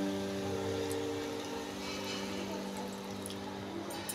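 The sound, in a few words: water being poured into a cooking pan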